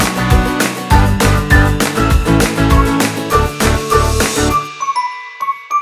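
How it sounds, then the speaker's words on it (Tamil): Samsung Galaxy Z Flip 5 phone switching on: a bright, loud startup chime of quick tinkling melodic notes lasting about four seconds, then fading into a few faint trailing pings. "இப்போ வந்து நம்ம சாம்சங் Galaxy Z Flip 5 ஸ்விட்ச் ஆன் பண்ணலாம்."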